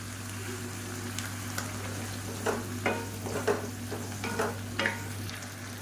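Tomatoes sautéing in a pan for tomato chutney, salted, with a steady low sizzle and a few soft scraping stirs partway through, close and fairly quiet, no talk.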